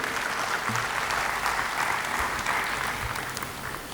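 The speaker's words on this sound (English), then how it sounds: "Another round of applause, please." Steady applause from an audience at an institute's retreat and sixth-anniversary celebration, a dense continuous wash of many hands clapping that holds evenly for several seconds with no voices over it.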